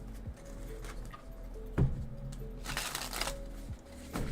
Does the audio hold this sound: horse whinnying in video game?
no